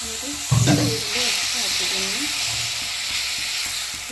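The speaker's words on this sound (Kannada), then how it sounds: "ಇವಾಗ ಟೊಮೆಟೊ ಈರುಳ್ಳಿ ಒಟ್ಟಿಗೆ ಹಾಕಿ ಒಂದು ಐದು ನಿಮಿಷ ಬ್ಯಾಡಿಸ್ಕೊತೀನಿ" Tomato and onion frying together in a pan for a Kannada-style gojju, with a steady close hiss and sizzle, a sharp metallic clank early on, and faint scraping as the mixture is stirred.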